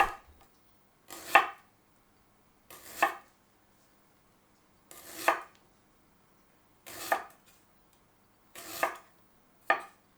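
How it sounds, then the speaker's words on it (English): A knife slices ginger into thin pieces about 2 millimeters thick on a cutting board, six distinct chops spaced out roughly every one and a half to two seconds, close and clear with quiet between strokes. "first cut the ginger into slices about 2 millimeters thick"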